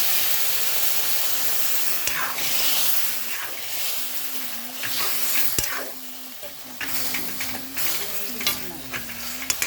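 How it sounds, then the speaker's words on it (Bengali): Moong dal frying in a pan sizzles and hisses as a little water goes in, with scraping stirs and clinks of a spoon against the pan throughout, close and fairly loud, no talking. "মুগ ডাল দিয়ে ভালো কষিয়ে নিচ্ছি, দিয়ে দিচ্ছি জল একটু।"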